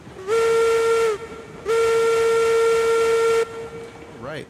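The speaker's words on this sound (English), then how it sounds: "So let's blow the whistle for some good luck" Steam locomotive whistle in the video game Railroads Online, blown in two long, loud, steady blasts with a short gap between them, followed by hissing steam.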